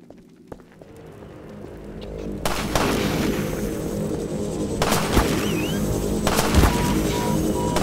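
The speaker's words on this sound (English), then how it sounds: "Gordon, lob a couple grenades. That'll clear them out." Grenade explosions and gunfire in the video game Half-Life 2, with a sharp shot early on, then a loud sustained rumbling blast and several more heavy booms over it, up close.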